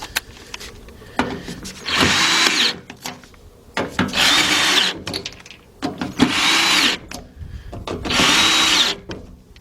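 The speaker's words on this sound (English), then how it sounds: "I'm going to go ahead and use my cordless gun." A cordless impact gun works on fasteners during a fuel pump and fuel filter replacement on a 2001 Ford Explorer 4.0, firing four loud, close bursts of whirring, hammering rattle separated by short pauses.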